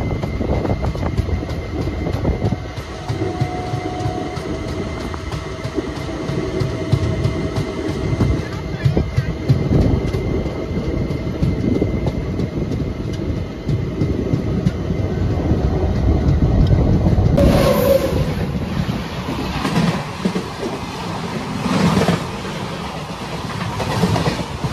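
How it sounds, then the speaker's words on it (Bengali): Netaji Express pulling out of Mughal Sarai (Pandit Deen Dayal Upadhyaya) junction: a steady, loud rumble of the moving train with rattling carriages and a rising roar near the end, with some voices in the background. "ট্রেন আবারও ছেড়ে দিল আমাদের এই পণ্ডিত দীনদয়াল উপাধ্যায় জাংশন অথবা মুঘল সরাই।"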